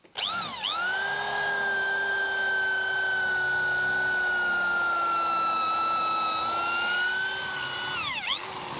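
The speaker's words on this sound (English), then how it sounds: "the benefits with drilling wood with these is they don't drag you into wood" A drill bit bores steadily into wood, a high whining tone with strong harmonics holding for about eight seconds after a quick spin-up, then winding down at the end; loud and close, with no voices.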